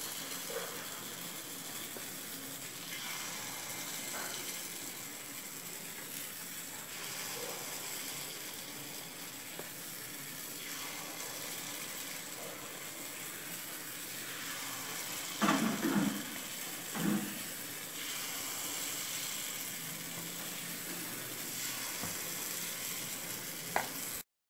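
Kuzhi paniyaram batter sizzles in an oiled paniyaram pan, giving a continuous close crackling hiss with a couple of brief clinks near the end.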